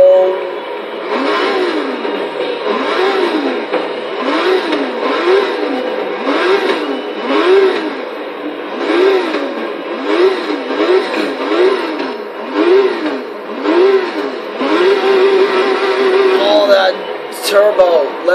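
A modified 2016 BMW M4 GTS with a turbo in the video game Forza Horizon 3 revs repeatedly, its engine note rising and falling in a steady rhythm of loud, close blips for about eighteen seconds with no talk over it.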